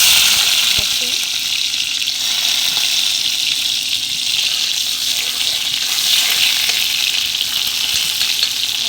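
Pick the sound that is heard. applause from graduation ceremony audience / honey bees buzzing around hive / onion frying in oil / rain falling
onion frying in oil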